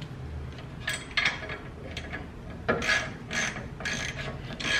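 A ratchet turning out the bottom bolt of a brake caliper on a VW MK7 Golf R during a Wilwood big brake install: clicking, metallic bursts in short spurts, close by, over faint background hum.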